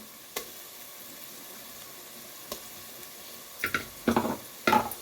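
Ginger garlic paste frying in a pan with chopped onion, a quiet background sizzle broken by a few sharper crackling spurts and stirring scrapes toward the end.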